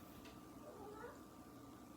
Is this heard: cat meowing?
yes